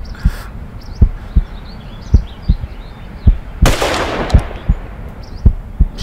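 A single sharp hunting-rifle gunshot in Hunting Simulator 2, ringing out midway over a steady, close thumping heartbeat, with faint outdoor ambience.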